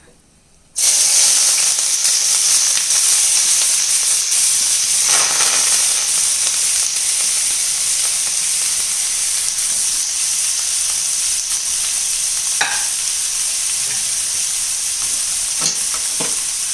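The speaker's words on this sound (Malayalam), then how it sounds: "1 സ്പൂൺ എണ്ണ ഒഴിച്ച് അതിലേക്ക് നമുക്ക് ഇതെല്ലാം കൂടി ഇട്ടൊന്ന് വാട്ടിയെടുക്കാം" Chopped vegetables drop into a spoonful of hot oil in a heated pan for an egg and bread snack and set off a sudden, loud sizzle. The steady frying hiss then holds for the rest of the stretch, with faint stirring scrapes now and then.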